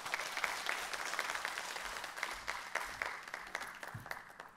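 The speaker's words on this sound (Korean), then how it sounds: "우리 목사님 박수로 환영해 주십시오." Congregation applause at a Thursday women's worship service in a church, a sustained, even round of clapping from many hands in a room welcoming the pastor.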